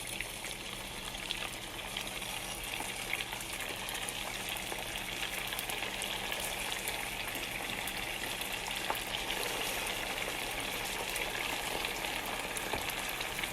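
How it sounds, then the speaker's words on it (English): Beef patties (kotalka) fry in hot oil, producing a loud, continuous crackling sizzle that holds steady and dense throughout, with no voices. "Okay, when the oil is hot, put your kotalks in there"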